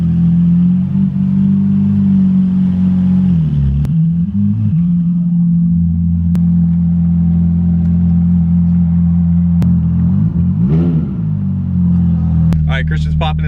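Ferrari F430 with muffler delete and straight pipes, idling loud and deep close up, with a brief light blip of the throttle partway through and a short rising rev near the end.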